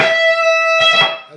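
Distorted electric guitar plays an intro solo, two sustained bent notes ringing loud and alone with no talking.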